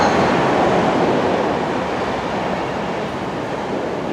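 A train passes with a dense, steady rumble and roar of wheels on rails, loud and close, slowly fading slightly over a few seconds with no voices.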